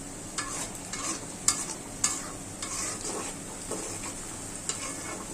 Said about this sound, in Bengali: আমার পেঁয়াজটা বেরেস্তা হয়ে গেছে। এখন একে একে সব মশলা দিয়ে দিব।